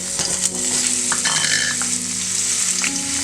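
Half an onion sautéing in cooking oil in a frying pan, a loud, continuous sizzle with brief stirring scrapes, close up and without talk.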